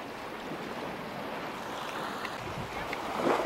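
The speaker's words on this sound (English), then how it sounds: "You see the ocean. You cannot see the reef that's out there, but we have a very gentle sea." Gentle sea surf washing steadily onto an Anguilla beach at high tide, with a reef offshore; a continuous soft wash of waves mixed with some wind noise, building slightly toward the end.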